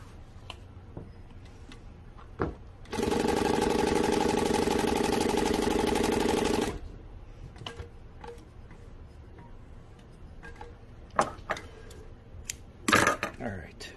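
An industrial sewing machine stitches a new piece of fabric in one steady, loud burst of about four seconds, with quieter handling clicks and taps before and after.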